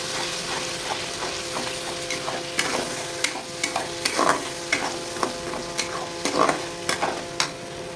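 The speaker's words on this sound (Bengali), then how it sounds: "আর তার সাথে আমি 4-5টা জিরে ফোড়ন দিয়ে দিচ্ছি" Cumin seeds crackle as they temper in hot oil, a steady close sizzle broken by repeated sharp pops and scraping stirs, with no voices.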